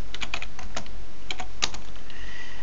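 Keys on a computer keyboard are typed in quick, irregular clusters of close, crisp clicks as commands are entered for switch configuration, with no talking.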